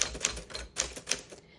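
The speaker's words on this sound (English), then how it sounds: "the carriage stops, but it's still typing, but it's just typing on top of each other" A 1955 Silent Super manual typewriter types with a carriage that has stopped at the margin, giving about five sharp key strikes in an uneven rhythm, close and crisp.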